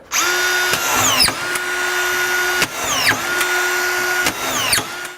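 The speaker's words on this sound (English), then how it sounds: "we're driving the screws in, we need to go forward, and away we go" A DEWALT DCF620 XR brushless collated screwdriver drives screws in three quick cycles, each a loud rising motor whine ending in sharp clicks as the screw seats and the next feeds, heard close with no talking.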